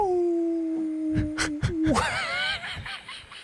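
A person imitates a dog howl with a long, steady wavering tone close by, breaking off into short sharp bursts and laughter-like noise near the end.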